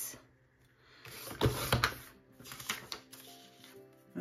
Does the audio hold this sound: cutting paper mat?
yes